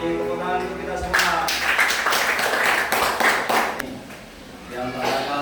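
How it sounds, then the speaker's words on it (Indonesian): An assembled audience of schoolchildren claps, steady dense applause building after a second and fading slightly near the end, heard fairly close with voices mixed in. "tepuk tangan untuk kita semua"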